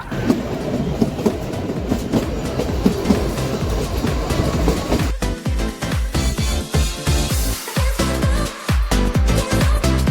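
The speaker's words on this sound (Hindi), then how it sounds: "फाइनली शिमला जाने वाली ट्रेन, टॉय ट्रेन।" The Kalka-Shimla toy train on the hill railway rumbles loudly and up close, its wheels settling into a rhythmic clickety-clack over the rail joints in the second half.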